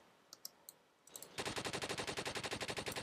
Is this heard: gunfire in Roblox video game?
yes